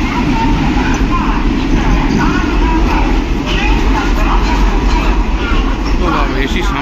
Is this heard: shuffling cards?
no